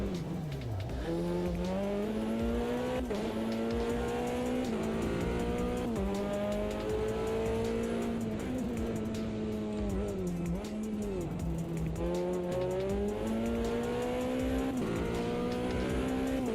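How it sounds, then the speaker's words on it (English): A race car engine in the Automobilista 2 racing game with a four-wheel-drive physics setup screams continuously, rising and falling through repeated gear changes and revs, loud and steady without any talk. "They've changed the engine sound on this car."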